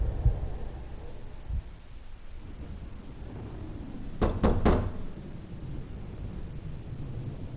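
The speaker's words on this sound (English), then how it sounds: "My fist pounds on the door." In the Death Mark game, a fist pounds on a door in three quick, heavy thuds close together midway through, set against a low ambient hum and rumble.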